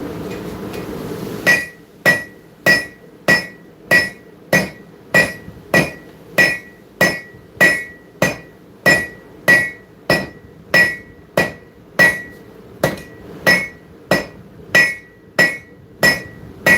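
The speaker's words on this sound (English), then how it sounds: "we're using the horn and the round side of this hammer" A round-faced forging hammer strikes hot metal over an anvil horn in a blacksmith workshop, about twenty sharp ringing blows in a steady, even rhythm, each with a bright metallic clang, close and alone.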